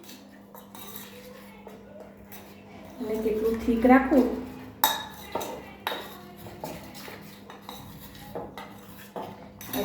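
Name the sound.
mixing gram flour batter with water in a bowl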